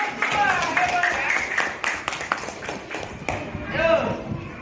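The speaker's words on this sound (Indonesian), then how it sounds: "Coba, tepuk tangan dulu dong untuk kelompok." A group of students in a classroom claps for a fellow group, with scattered, uneven hand claps mixed with children's voices and chatter.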